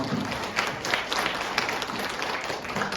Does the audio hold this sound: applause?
yes